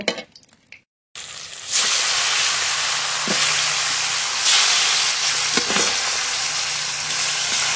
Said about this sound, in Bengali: এই তেলে বাকি মাছগুলো ভেজে নেব।